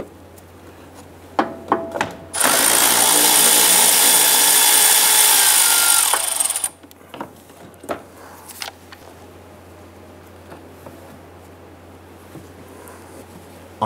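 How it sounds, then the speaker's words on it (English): A power tool whirs loudly and steadily for about four seconds, close up, while a 13 mm nut is loosened on the front side marker of a 2005-2010 Chrysler 300, with scattered handling clicks before and after. "go ahead and loosen and remove this nut right here"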